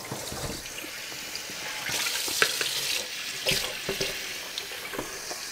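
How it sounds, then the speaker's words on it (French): Homemade butter is washed and kneaded under running tap water in a bowl, a steady splashing flow with wet squelches and soft knocks. "on va tout simplement commencer par passer l'eau et on doit le laver, malaxer jusqu'à ce que l'eau elle sort claire"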